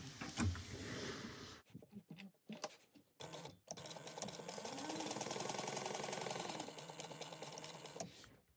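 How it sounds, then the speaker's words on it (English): A sewing machine stitches along a marked line in a Cressida garment project, starting with a few short stop-start bursts before running in one steady, close mechanical whir for about four seconds and then stopping. "Now we're going to sew the line that we drew previously."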